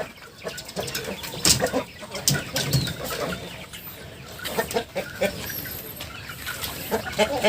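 Village chicks and hens on a Thai farm, clucking and peeping in quick overlapping bursts close by, with a few wing flaps and no talk.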